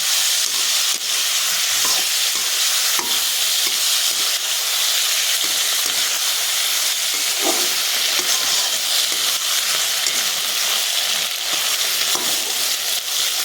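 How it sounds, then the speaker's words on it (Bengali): Green jackfruit fries in a pan for a chili jackfruit dish, a steady close sizzle running throughout with irregular scrapes and taps of a spoon stirring it, and no voices. "আবারও একটু নাড়াচাড়া করে নেব।"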